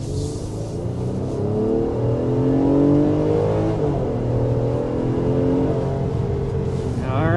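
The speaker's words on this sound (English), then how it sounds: "there we were hitting 60 miles an hour with this Pathfinder Platinum" A 2026 Nissan Pathfinder Platinum's V6 accelerating hard to 60 mph, engine note climbing steadily through the gears with a smooth rising hum heard from inside the cabin, no one speaking.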